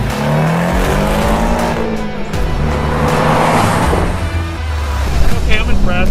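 A car accelerates hard with the pedal down, its engine roaring loud and close and tires squealing, while people talk over it.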